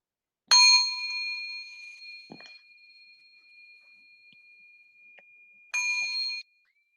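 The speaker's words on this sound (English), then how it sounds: "I'm going to ring a bell to start." A meditation bell is struck twice to open a session, each strike a bright, clear ring with a long sustained tone that fades slowly, the second strike coming about five seconds after the first, in an otherwise quiet room.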